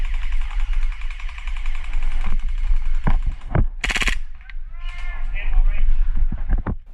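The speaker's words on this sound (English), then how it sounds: "This is where the full auto really comes in handy, trying to shoot through the bushes like this." A Tokyo Marui G18c airsoft pistol fires on full auto outdoors, aimed through bushes, giving short rapid bursts of sharp clicks close by, mixed with someone talking.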